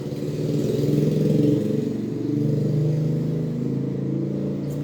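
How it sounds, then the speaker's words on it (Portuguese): A motorcycle passes close by. Its engine rumble swells, briefly peaks, then fades and rises again as it moves past, with no speech. "A moto aqui que passou aqui."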